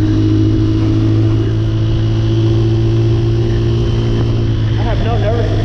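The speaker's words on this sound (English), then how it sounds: "you see I like to rev it up high." Motorcycle engine revved high, a loud, close, sustained drone that holds steady throughout.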